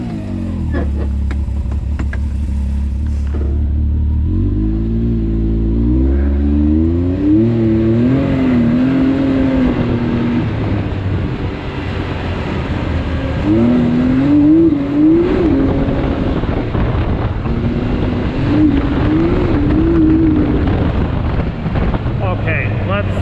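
A Can-Am Maverick X3 X DS Turbo RR side-by-side backs up in reverse in two-wheel drive, its engine idling and then revving in rising, wavering pulls, loud and close with wind noise and someone talking over it.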